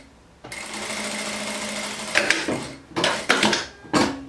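Sewing machine stitching a waterproof fabric kitchen apron, running in a steady whir for about two seconds and then in several short bursts with pauses between, close and loud with no talk.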